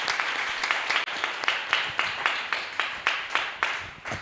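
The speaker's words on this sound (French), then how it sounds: "Acclame pour la parole de Dieu." A church congregation claps together in steady, rhythmic unison, about two beats per second, loud and close, with no voices over it.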